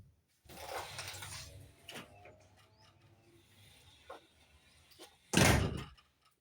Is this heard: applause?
no